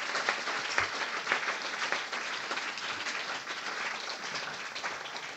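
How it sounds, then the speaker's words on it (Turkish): An audience claps for the speakers at a public talk, a dense, steady round of applause from many hands that carries on without pause. "Konuşmacılar için kısa bir alkış."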